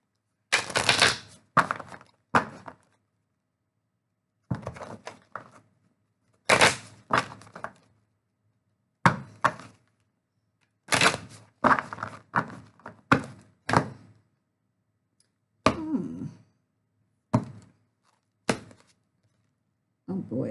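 Oracle cards being shuffled and handled: short bursts of papery riffling and dull taps in separate clusters, separated by silences, close and fairly quiet.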